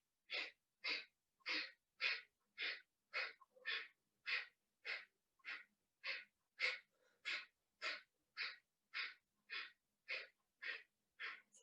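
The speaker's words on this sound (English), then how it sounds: "keep that breath of fire going" Rapid, rhythmic breath of fire during a kundalini-style exercise with arms held at a 45-degree angle: about twenty sharp, evenly spaced forceful exhales, close and clear, with no talking.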